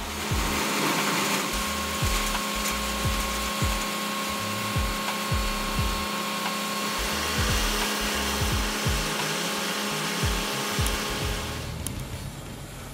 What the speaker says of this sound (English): Equipped with a powerful motor, the Morbark 1300 tub grinder delivers outstanding productivity.